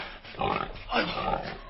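A sacrificial pig grunts and oinks as it escapes, the snorts rough and moderately close, coming in a couple of bursts.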